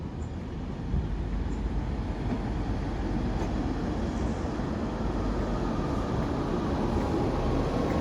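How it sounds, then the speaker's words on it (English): A train at Liskeard station gives a steady low rumble and broad roar, a continuous close drone that holds an even level with no clear breaks throughout. "So we're going to board this train now."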